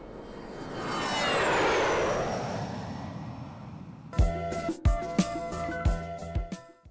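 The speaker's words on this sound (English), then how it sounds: "today was the day for public to witness and enjoy the aerobatics, the best part of the air show" Aerobatic aircraft at the Aero India air show: a jet roars past, swelling to a loud peak then fading, followed by a series of sharp bangs or pops in quick succession.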